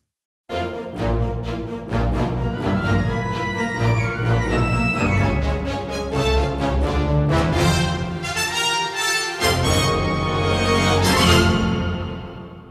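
Orchestral mockup for a video game score with pre-recorded flute and piccolo runs layered over full ensemble, dense sustained strings and brass with rapid woodwind flourishes rising and falling throughout, loud and continuous.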